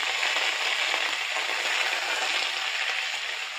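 Pointed gourd and potato pieces with salt and turmeric fry in a pan, making a dense, even hiss of sizzling oil that carries on steadily and slowly fades a little toward the end, with no one talking.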